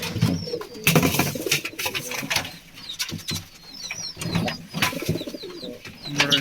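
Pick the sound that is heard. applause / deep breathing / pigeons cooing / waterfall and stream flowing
pigeons cooing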